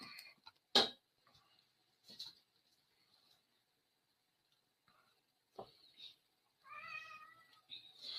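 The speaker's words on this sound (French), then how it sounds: "J'ai un chat qui veut sortir." A recently operated-on cat shut in a garage meows to be let out, a few faint, scattered cries with a longer drawn-out meow near the end, separated by quiet gaps.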